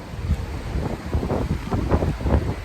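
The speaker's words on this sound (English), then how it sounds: "It's very windy out here." Strong wind buffets a seaside balcony above choppy water, a close, rough, gusting roar that swells and dips in quick irregular pulses with no voices.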